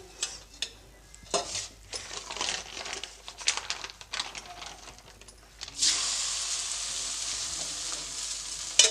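Rice thalipattu fries in oil on a pan, with close crackling and sizzling. Scattered clinks and scraping come early, then a steady, loud hiss sets in and holds to the end.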